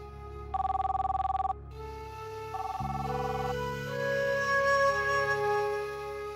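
A phone rings with one rapid trilling burst lasting about a second, loud and close, followed by sustained dramatic background music tones.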